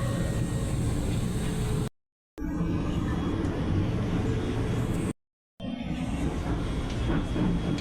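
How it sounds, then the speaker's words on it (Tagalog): A steady rumbling roar of a light rail (LRT) car in motion in Manila, broken twice by brief moments of near silence. "Sakay pa kami sa LRT."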